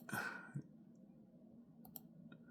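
Computer mouse clicks, two quick sharp taps near the start followed by a few fainter clicks, close and alone in a quiet room.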